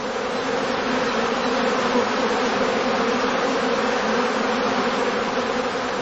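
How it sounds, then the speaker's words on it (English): A swarm of honey bees hums densely inside a swarm catcher bag at a heather skep apiary, a steady, close, unbroken buzz throughout. "the bees have contracted to a dense cluster at the top of the swarm catcher, they can easily be shaken out of the bag"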